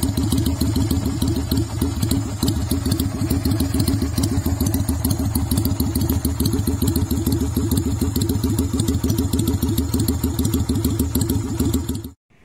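A Kaisar Ruby 250 custom bobber motorcycle idles close by with a steady, loud, rhythmic thumping and some mechanical clatter, running unbroken until it cuts off abruptly at the end.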